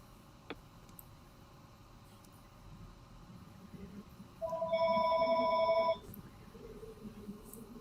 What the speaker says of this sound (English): That was my phone ringing back in the day.